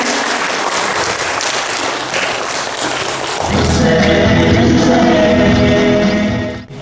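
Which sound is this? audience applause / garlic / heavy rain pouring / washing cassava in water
audience applause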